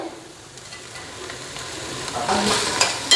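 Cauliflower and potato for paratha filling are stir-fried in a pan with a soft, steady sizzle. Scraping stirs grow louder toward the end, and a few brief clinks of utensil on pan come through.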